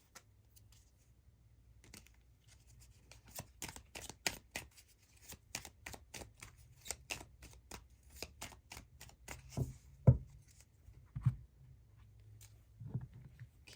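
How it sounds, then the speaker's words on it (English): Shadow healing oracle cards are shuffled in a string of quick, crisp riffling clicks and taps, close and soft, with a few louder slaps, no voices. "let's get you some shadow healing cards to conclude your reading"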